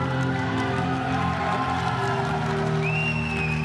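Crowd at a Booker T's Reality of Wrestling event, a dense, steady roar of cheering and voices that fills the whole stretch, with a rising whistle near the end.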